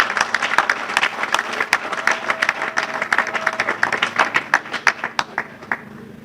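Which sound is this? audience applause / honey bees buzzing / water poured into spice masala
audience applause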